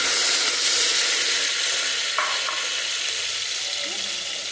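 Onions with mint fry in a pan while being stirred, giving a loud, continuous sizzle with a brief scrape of the spoon midway, easing slightly toward the end.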